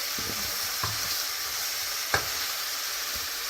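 Bacon fries in a pan with a steady close sizzle and crackle, broken by a few sharp pops and light clinks, with no one talking.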